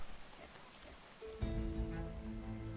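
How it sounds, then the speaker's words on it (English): Steady rain patters on a surface as a broadband hiss, joined partway through by a louder tonal hum with harmonics that holds to the end. "Nope, it's going to stop raining."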